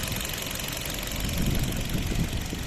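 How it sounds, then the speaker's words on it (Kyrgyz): A car engine idles in a smooth, steady run, close up and continuous, with an even low rumble and faint ticking and no talk over it. "Мотору четкий иштеп турат"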